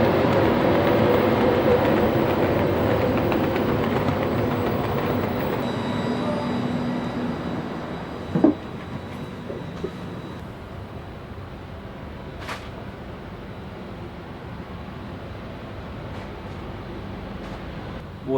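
A second-class passenger train in Italy runs with a steady, loud interior rumble and broad rolling noise, broken by a few brief clicks and knocks from the track.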